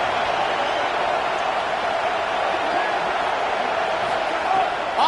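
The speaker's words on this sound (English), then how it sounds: "Listen to this crowd just shaking the girders of this place" A stadium crowd at a Michigan college football game roars loudly and steadily in a sustained, dense wall of noise, with faint cheers rising near the end.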